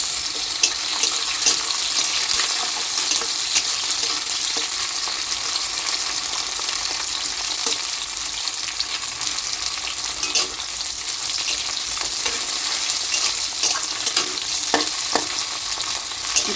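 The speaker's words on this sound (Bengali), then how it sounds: "পেঁয়াজটাকে লাল লাল করে ভেজে নেব। এর মধ্যে দিয়ে দেবো একটা টমেটো কুচি।" Onions and chopped tomato frying in a pan, a dense continuous sizzle with soft scraping stir strokes throughout, close and alone without talk.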